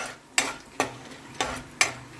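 Peanuts and crushed garlic frying in a pan, stirred in four evenly spaced scraping strokes over a low background sizzle, each stroke a distinct rasping sweep.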